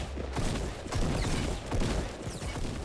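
Fortnite gunfire crackles in quick clustered volleys, several bursts of sharp shots in close succession at moderate loudness.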